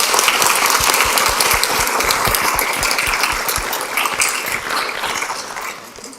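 A school board meeting audience breaks into dense, sustained applause that holds steady and loud, then thins and fades toward the end.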